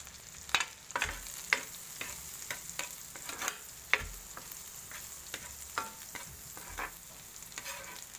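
Garlic frying in a pan for fried rice, a steady low sizzle broken by sharp clacks of a utensil stirring and scraping, loudest around the start and middle, with no voices.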